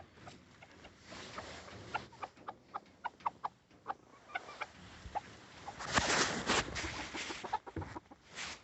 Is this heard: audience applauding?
no